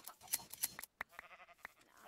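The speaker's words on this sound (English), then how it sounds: "I'm gonna go shear these sheep." Minecraft sheep bleat in short repeated calls mixed with sharp clicks from shearing in the game, close and fairly quiet.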